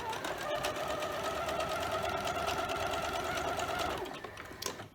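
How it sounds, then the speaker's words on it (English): Close, continuous whir of a sewing machine running a quarter-inch seam on a quilt block, holding a steady pace for about four seconds before stopping, followed by a few faint clicks. "then I am going to sew a 1/4-inch seam allowance from that corner there down to here"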